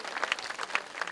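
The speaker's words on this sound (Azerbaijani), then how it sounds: "Alqışlar səslənsin bizim bu gözəl xalçalarımızın şərəfinə də." Audience applause at a public event honouring carpets, a brief, quiet burst of many hands clapping in a rapid, dense patter, somewhat distant.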